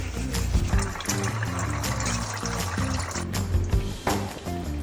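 Water is poured and trickles steadily in a kitchen while tokwa't baboy is cooked, partly masked by rhythmic background music throughout.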